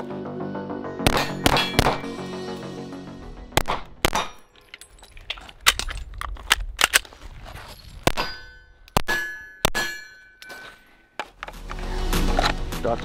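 Shots from an H&K VP9 Tactical pistol come as roughly a dozen sharp, loud cracks in irregular groups, some trailing a brief metallic ring, with quiet gaps between them.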